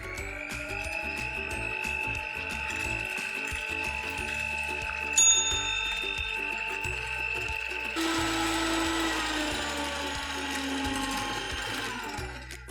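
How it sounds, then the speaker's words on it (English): An electric hand mixer whips eggs, vanilla and sugar with a steady high motor whine and a rhythmic beater rattle. Midway the tone shifts as the speed or the batter changes. The sound is close and continuous with no talk. "Grab your mixer and start whipping until the mixture becomes light, creamy, and ribbony."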